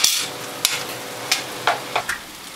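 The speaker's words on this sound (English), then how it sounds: "Give it a mix." Butternut squash soup with potatoes and carrots being stirred in a pot, heard as a few distinct scraping, clattering strokes of a spoon spaced across a soft simmering bed, close and fairly clear with no talking.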